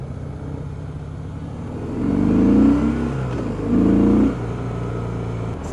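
A 2017 Harley-Davidson Breakout engine revs up twice in strong bursts in third gear, the pitch climbing under load before easing off, close and loud over a steady idle drone.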